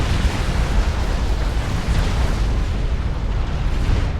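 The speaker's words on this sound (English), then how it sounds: "Yeah, that's a lot of Cybran artillery." Cybran artillery shells pounding an area in the strategy game Supreme Commander 2, a dense, continuous roll of loud overlapping explosions forming one heavy, rumbling barrage with no pauses.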